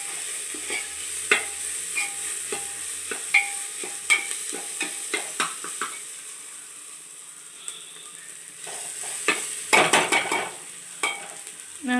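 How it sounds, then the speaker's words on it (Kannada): Ginger and garlic fry in a pan for a liver curry, a soft sizzle under repeated clinking and scraping stirs of a metal spoon, close by, with a louder clatter near the end and no talk. "ಇದು ಸ್ವಲ್ಪ ಶುಂಠಿ ಬೆಳ್ಳುಳ್ಳಿ ಸ್ಮೆಲ್ ಹೋಗೋವರೆಗೂ ಒಂದು 2 ನಿಮಿಷ ಫ್ರೈ ಮಾಡಿ"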